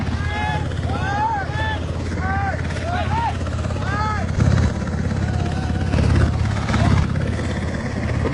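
A United States Seahawk helicopter at the Pangkalan Bun airstrip in Central Kalimantan, during a body evacuation, gives a steady, loud rotor and engine roar throughout, with some wavering higher tones over the din.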